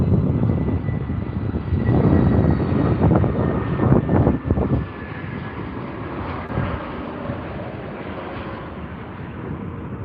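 An Aer Lingus airliner passes at Heathrow airport, its engines roaring loud and broad, swelling to a peak midway and then easing into a steady, fading rumble with wind buffeting the microphone.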